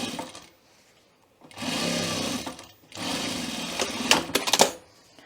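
A sewing machine stitches a welt pocket seam in two sustained runs of rapid, even needle clatter, separated by a pause, ending with a few sharp clicks.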